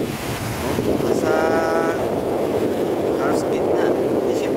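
Ocean waves wash onto a white-sand beach at Santa Cruz, Zambales, a loud, continuous rushing surf mixed with heavy wind buffeting the microphone.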